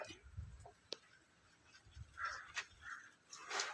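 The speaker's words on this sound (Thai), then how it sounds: "ปัญหาของคนเลี้ยงไก่ก็คืออีกาเนี่ยครับ เสียงร้องข้างบน" Harsh crow caws ring out a few times overhead, distant and intermittent, over faint outdoor background noise near a chicken coop.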